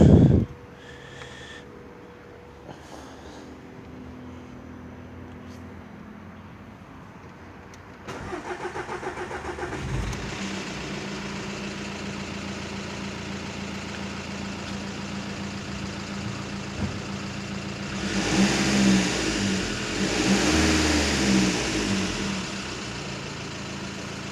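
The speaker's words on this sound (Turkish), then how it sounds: "aracımızı çalıştıralım" A Renault Fluence 1.5 dCi diesel with a timing-belt fault is started and settles into a loud, steady idle with a rough mechanical clatter, then revs up briefly before dropping back, recorded close with no talking.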